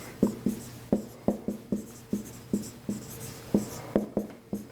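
Marker strokes on a classroom board during a lecture, a steady run of short squeaky swipes, about a dozen in quick rhythmic succession, close and clear with no talking.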